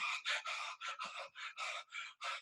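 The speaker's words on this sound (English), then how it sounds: "If you make the breath a little bit more like a quick or a rapid panting breath" A person takes a series of quick, rapid panting breaths during a breathing exercise, about nine sharp, evenly spaced breaths, close and clear with no other sound.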